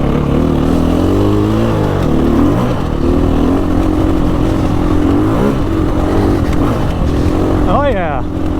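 Off-road motorcycle climbing a hill on a trail ride, with a steady close engine roar and revs that swell and dip over the rough ground while a rider talks over it.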